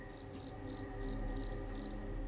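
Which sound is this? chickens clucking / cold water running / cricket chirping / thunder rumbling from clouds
cricket chirping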